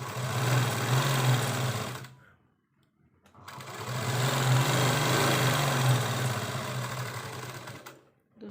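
Sewing machine stitching the closed tie strap of a baby frock, two sustained runs of loud, close, rapid mechanical whirring separated by a brief pause, with no talking.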